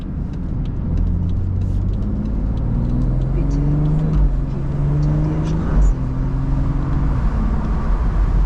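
A BMW 440i convertible with the roof down accelerates along a twisty country road, its engine note climbing through gears in steady rising sweeps under constant road and wind rush.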